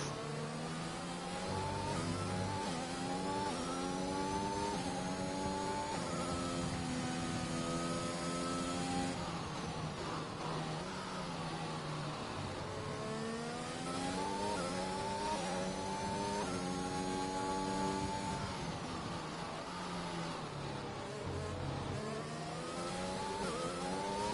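Formula 1 cars in a racing video game, on a fast Portugal circuit, scream past with high engine whine that rises and falls through gear shifts, while a sustained roar of several cars lasts throughout.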